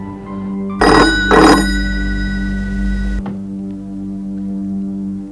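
A telephone rings with two bright electronic trills in quick succession, then a steady tone lingers before cutting off, leaving a low hum.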